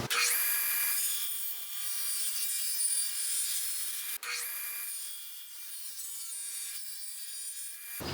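A hand saw cuts through a wooden board in a model build, a continuous close rasping stroke with a brief pause partway, loud and alone.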